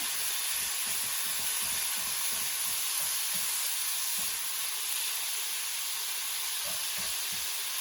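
Pork browning in a pan for a stir fry, a steady quiet sizzle and hiss with faint scraping and stirring ticks underneath.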